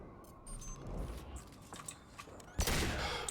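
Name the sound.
pistol gunshots in video game Mass Effect 2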